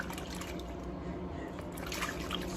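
Warm water sloshing and trickling as a lace frontal soaks in a bleaching bath, soft close splashes and drips running steadily throughout.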